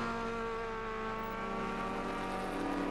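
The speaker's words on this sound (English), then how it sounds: "A total of some 26 cars coming out for this practice session." Race cars run through a practice session at Castle Combe in a sports and saloons championship, their engines a continuous loud roar heard alone.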